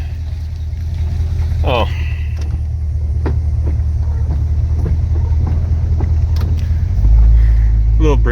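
A 1968 Ford Custom Galaxy 500, recently revived from a junkyard, idles and pulls away with a steady low engine drone heard from close by. Someone speaks briefly over it, and the rumble deepens and grows louder near the end.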